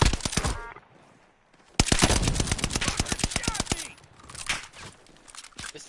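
Rapid bursts of automatic gunfire from a weapon in a video game, a few sharp shots then a long dense volley of close, loud, evenly spaced cracks after a brief lull, with faint talk in between.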